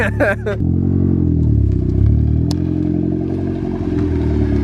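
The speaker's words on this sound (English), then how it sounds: "It actually has an exhaust, you know, unlike other turbo Miatas, so it sounds amazing." A turbocharged Mazda Miata's engine revs and drones loudly and steadily, with a raspy exhaust note and a brief clatter near the start.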